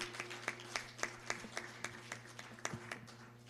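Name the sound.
audience applause at a live event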